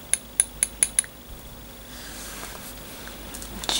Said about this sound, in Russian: мне нравится стук серебра по стеклу